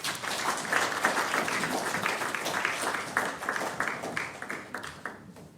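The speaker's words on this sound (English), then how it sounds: "A big round of applause to everyone and their parents" At a children's research conference, an audience applauds after an essay reading: a dense wash of many hands clapping that rises, holds, then thins out toward the end.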